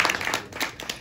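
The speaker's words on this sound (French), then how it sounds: "une grande main d'applaudissement" A crowd at a community gathering gives a brief round of applause after a talk, with quick scattered claps at moderate distance, fairly soft and thinning out.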